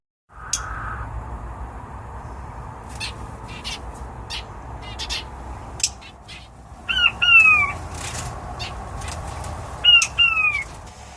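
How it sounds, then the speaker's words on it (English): Birds in a backyard aviary squawk and caw in short, harsh bursts, two louder calls standing out near the end over quieter chatter and background rustling. "My new birds are here. And they are surprised."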